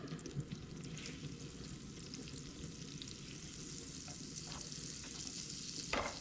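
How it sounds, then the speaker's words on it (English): Neutral oil and butter cooking down in a pan, a faint, steady sizzle with a few soft clinks and a louder crackle near the end. "We're going to come in with some neutral oil of your choice, a little bit of butter. Let this cook down."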